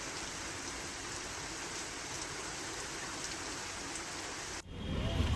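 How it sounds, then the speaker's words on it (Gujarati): Heavy monsoon rain pours down on Amreli city in Gujarat as a dense, unbroken roar of drops. The sound shifts abruptly near the end. "તો અમરેલી શહેરમાં પણ મુશળધાર વરસાદ વરસ્યો."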